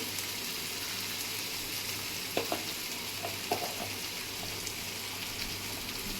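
Chopped tomatoes fry in a pan for tomato bath upma, giving a steady close sizzle with a few soft clicks of stirring.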